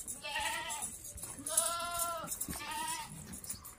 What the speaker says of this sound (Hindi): एक इसमें एक बीतल बकरा भी है।